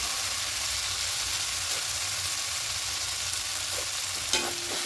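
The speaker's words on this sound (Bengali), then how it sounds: "আরও 2-3 মিনিট একটু ভালো করে কষিয়ে নেব" Potato and cauliflower curry frying in a pan, a steady close sizzle with occasional stirring scrapes and a brief clink near the end.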